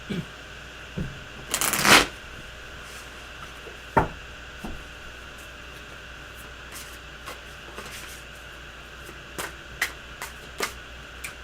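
Tarot cards being shuffled nearby: a loud riffle burst early, then scattered soft taps and flicks of cards against a quiet background.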